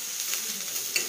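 Onion and ginger fry in a pan with a steady, soft sizzle, punctuated by a couple of light scraping stirs near the end.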